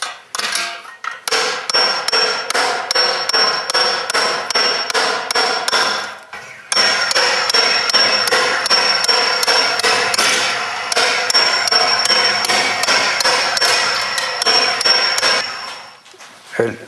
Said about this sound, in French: Et j'en apporte pas mal à la fois, avec ce marteau très épais et un peu lourd.